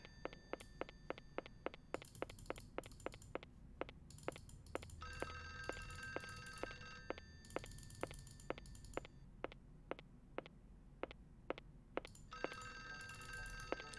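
An old telephone in the Clock Tower video game rings in repeated bursts of rapid bell trills, alternating with steady ticking clicks, fairly quiet and alone with no talk.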